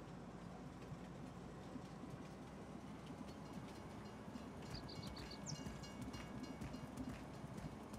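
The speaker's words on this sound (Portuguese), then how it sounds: "o trem anda na mesma velocidade para frente para trás" A train rolls past in Farming Simulator 19 with a steady clickety-clack rumble and a few brief high squeals, no talk over it.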